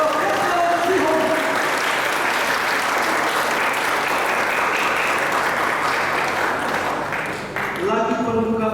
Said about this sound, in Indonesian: Mari tepuk tangan yang mulia kepada pendana Roberto Sihombing